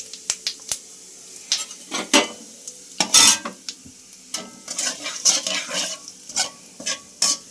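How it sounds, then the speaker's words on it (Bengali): Cumin and fennel seeds fry in the oil left from browning potatoes, giving a close, bright sizzle broken by repeated sharp scrapes and clinks of a spatula stirring in a metal pan. "জিরা মৌরিটা ভাজা হয়ে গেছে, সুন্দর গন্ধ ছেড়েছে।"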